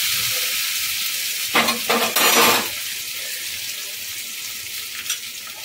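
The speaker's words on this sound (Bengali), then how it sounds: "একটু ভালো করে কাঁচা লঙ্কাটাকে আমি নেড়ে ফেলে নিচ্ছি।" Spiny gourd and green chilli frying in a pan, a steady bright sizzle broken by a short burst of spatula stirring and scraping, close and fairly loud with no speech.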